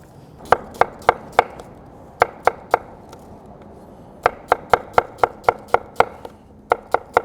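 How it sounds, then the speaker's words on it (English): A knife slicing yellow onions into thin wedges on a cutting board, about twenty crisp, regular chops in quick runs with short pauses between them, close and loud, with no talking. "So we're using yellow onions today, and I wanna slice these pole to pole"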